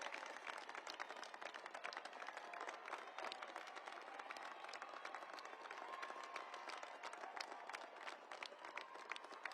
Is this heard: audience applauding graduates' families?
yes